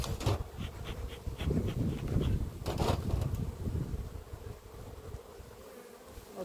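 Honey bees buzzing at a hive, a loud close swarm drone that swells and fades with wind gusts across the microphone, no speech.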